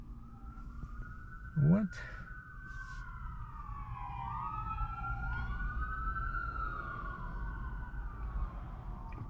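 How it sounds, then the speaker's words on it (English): Police car and ambulance sirens pass on a street in Calgary, Canada in the early morning, wailing and overlapping loudly for several seconds as they go by, with a brief exclamation from a person nearby. "Police, and this is the second ambulance."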